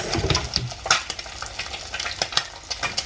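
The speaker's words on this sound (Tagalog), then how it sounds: "Tumatalsik-talsik na siya." An egg frying in hot, splattering oil, with a busy crackling sizzle and sharp pops throughout, broken by scraping stirs from a utensil close by.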